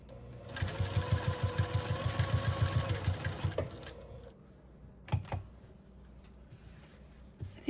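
A sewing machine runs steadily for about three seconds, its rapid even needle chatter close and clear while stitching a quilt block, then stops, followed by a couple of sharp handling clicks.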